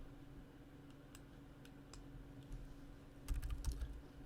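Quiet, scattered keystrokes on a computer keyboard while HTML code is entered, sparse single taps giving way to a brief quick flurry near the end over a steady low background hum.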